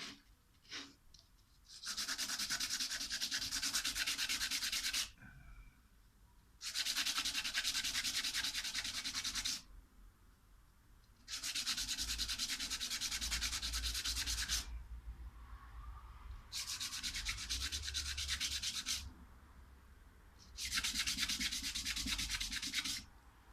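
Swollen wood is sanded by hand in five long, steady back-and-forth stretches of raspy rubbing, each lasting a few seconds and separated by short quiet pauses, close and fairly loud.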